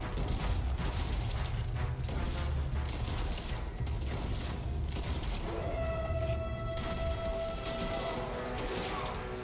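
Gunfire in Red Dead Redemption 2, a dense run of rapid sharp shots and booms over a continuous loud mix, followed by a metallic ringing whine. Background sounds run underneath.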